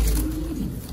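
Mondain pigeons cooing up close, a low throaty coo rolling through the full second over a loud low rumble, with no voices.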